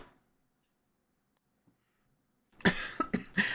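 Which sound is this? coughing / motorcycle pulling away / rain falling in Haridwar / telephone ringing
coughing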